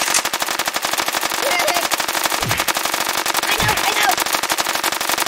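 Loud, continuous rapid-fire gunfire at the shooting range in the mobile game Kick the Buddy, a dense automatic rattle that fills the whole stretch without a break.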